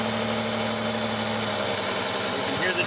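Engine running under load with its front cylinder disabled, a steady droning hum with a slightly uneven, rough misfiring texture, loud and close with no talk.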